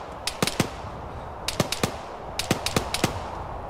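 Arma 3 co-op firefight gunfire: sharp shots in irregular bursts of two and three, crisp and fairly close, repeating across the stretch with no talk.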